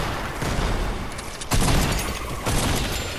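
Bombs drop and explode in Fortnite's Horde Rush mode, a loud rumbling barrage with two heavier blasts punching through a continuous roar of gunfire and detonations.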